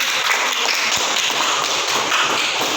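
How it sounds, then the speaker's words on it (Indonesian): A classroom audience applauds group 3, a dense steady patter of many hands clapping together throughout, fairly loud and close with no voices over it. "Kita berikan aplaus."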